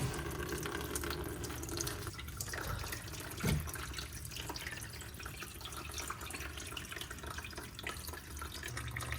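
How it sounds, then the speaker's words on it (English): Water pours and trickles steadily from pipes inside a wall during snaking of a 2-inch sink drain with a Ridgid K400 auger, a continuous close splashing flow with a brief thump partway through. "there's water coming from the pipes, from inside the wall, not so much from the sink"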